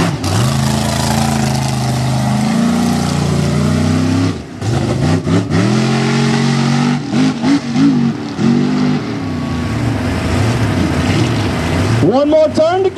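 A mega truck engine revs and bogs, sputtering as if struggling to run, through a loud, sustained roar with changing pitch during a mud race, under an announcer's commentary.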